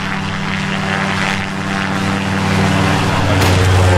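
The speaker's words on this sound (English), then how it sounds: "We got the plane working." A propeller plane engine runs loud and steady with a constant droning hum that builds slightly toward the end, with no voices over it.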